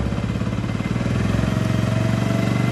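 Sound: Hero Splendor motorcycle engine revving

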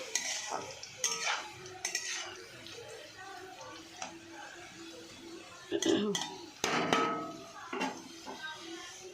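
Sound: potatoes frying in a pan

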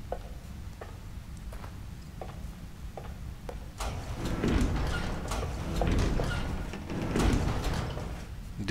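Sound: sliding doors opening in the video game The Evil Within

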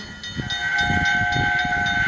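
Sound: train passing with steam whistle in a train video game

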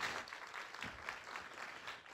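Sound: audience applause

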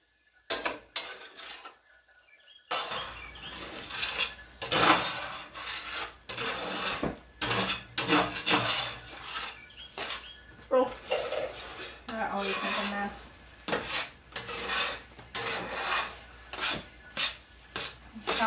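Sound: whisking a cooling mixture against the sides of a pot

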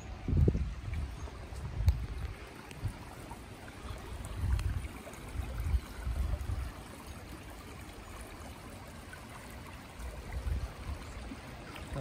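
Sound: flowing river water in forest

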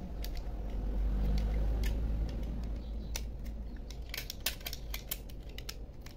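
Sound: utility knife cutting rotten desert rose plant

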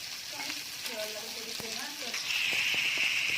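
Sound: onion and garlic frying in pan

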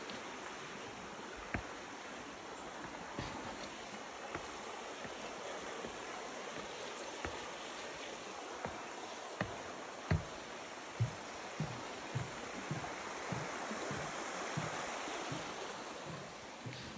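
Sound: flowing stream

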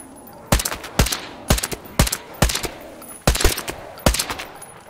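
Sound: gunfire from the video game Metro Exodus

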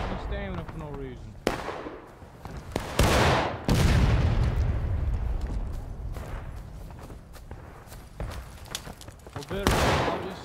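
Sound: musket volley fire in video game War of Rights

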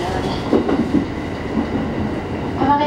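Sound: JR East Hachiko Line train running on rails

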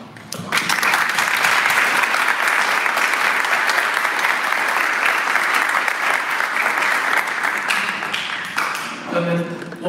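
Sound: applause at a wedding reception

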